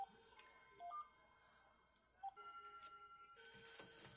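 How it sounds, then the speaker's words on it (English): Short electronic telephone beeps and tones sound off and on in a quiet room, a few isolated chirps followed by a steady run of rapid pulsed beeps, moderately close and faint. "That's not a camera, that's the phone."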